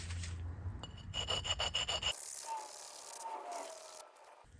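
Close rubbing and filing strokes as a burr is worked off a Savage 93R17 rifle bolt, a rapid run of short rasping scrapes followed by softer, smoother rubbing.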